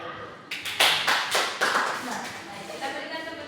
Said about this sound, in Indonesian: kita berikan tepuk tangan, kita berikan sambut lagi ya